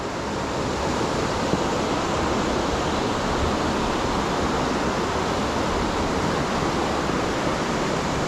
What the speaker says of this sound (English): this is HETHPOOL LINN waterfall